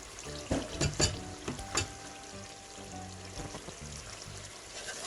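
Chicken karahi with yogurt frying in a pan while being stirred, with soft sizzling and a few scraping stir knocks early on, then a steady low sizzle, fairly close and with no talking.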